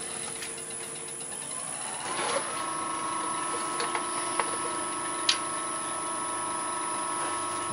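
A woodturning lathe, sanding and polishing a wooden bottle stopper on a mandrel, runs with a constant whirring mechanical hum and a steady high whine. A tonal shift comes around two seconds, and a few faint clicks and taps sound near by, with no speech.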